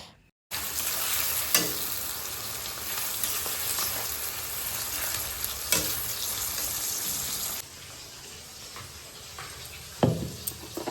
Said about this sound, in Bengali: এদিকে আস্তে আস্তে পেঁয়াজগুলো ভাজা যাবে